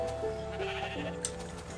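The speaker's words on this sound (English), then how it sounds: "Oh, the sheep's attacking." Sheep bleat in Minecraft, layered over steady game music, with a couple of overlapping bleats and no speech.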